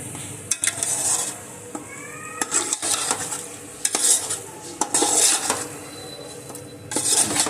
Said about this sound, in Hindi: और इसे मिक्स कर लेंगे।